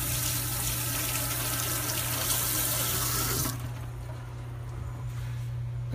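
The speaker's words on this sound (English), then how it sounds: "let me wash this tomato off real quick" Tap water runs loudly into a sink over a tomato being washed, a steady close splashing rush that cuts off partway through, leaving a faint low hum.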